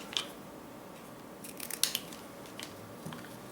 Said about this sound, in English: just cut diagonally, like so